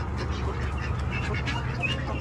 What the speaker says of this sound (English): We are under attack by ducks.